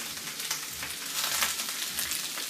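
Vegetables and ginger stir-frying in a hot pan for a Thai veggie stir-fry: a steady, close sizzle with light crackling bursts that runs evenly throughout.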